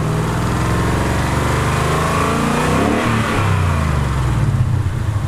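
A Ford Mustang GT 5.0 engine running after a typewriter-style rattle fix, a loud steady close engine drone with a slight rise in revs midway, no talk.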